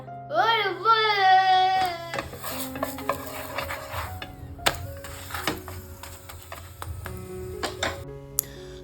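Egg being added to a pan while making an egg roll, with stirring and utensil clinks against cookware and a soft sizzle, a nearby voice at the start and scattered metallic knocks throughout.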